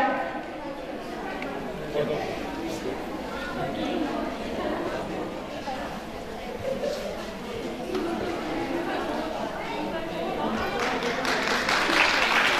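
Crowd clapping for women's groups at an International Women's Day ceremony, a dense sustained patter under murmuring chatter that swells toward the end.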